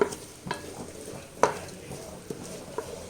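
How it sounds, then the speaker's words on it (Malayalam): Onions sautéing in a pan for egg biryani give a low, steady frying hiss, broken by a few soft clinks and scrapes of stirring. "സവാള അതിൽ കിടത്ത് നന്നായിട്ടൊന്ന് വഴത്തി വരണം"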